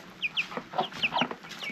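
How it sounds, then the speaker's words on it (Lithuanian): Hens and small chicks inside a village coop during heavy rain, giving repeated short clucks and high peeps in an irregular, close, moderately loud run. "Čia viduj yra viščiukai."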